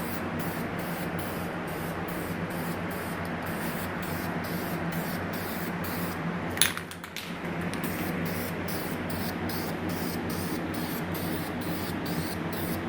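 VHT paint hisses steadily from a spray can as a light coat goes onto a freshly welded car subframe. The close, continuous spray runs nearly the whole time, with one brief break partway through.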